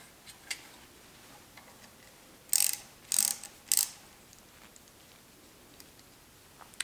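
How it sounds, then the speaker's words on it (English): A few quick mechanical clicks and ratcheting rasps from working the clutch lever off the handlebar of a Honda CB750 chopper, three short bursts close by in an otherwise quiet space. "what I'm doing here is removing the clutch lever so I can push the actual clutch switch back out"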